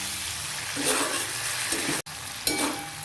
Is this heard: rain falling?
no